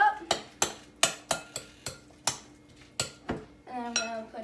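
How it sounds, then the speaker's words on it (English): A spoon clinks and scrapes against a bowl while cut ingredients are mixed with mayonnaise, a series of sharp close taps at an uneven pace with a short ringing clink at the end. "I'm going to add a scoop of mayonnaise. And then I'm going to mix it all up."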